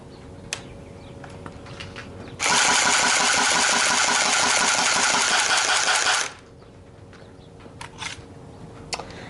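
An H&K P30 electric airsoft pistol fires on fully automatic: a loud, steady mechanical buzz of rapid shots lasting about four seconds, with small clicks and handling noises before and after.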